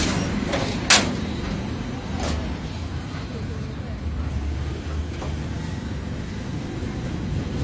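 Buses, trucks and cars rumble past on a rough brick-and-sand road near Ashulia, Bangladesh, with a sharp hiss like an air brake early on and a continuous, fairly loud traffic drone throughout.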